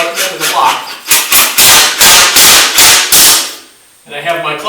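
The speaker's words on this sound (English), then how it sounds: "Go ahead and screw in. Fast to get through the OSB, and then slow when I feel it biting into the block." Cordless drill driving a screw through OSB sheathing into a concrete foundation block, a loud run of sharp rhythmic bursts that ends abruptly, followed by brief quieter handling noise.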